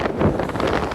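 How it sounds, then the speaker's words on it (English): Strong wind buffets the microphone on an exposed fell summit in the Loweswater fells, a steady loud roar and rumble filling the whole second with no voices. "It's very windy up top though."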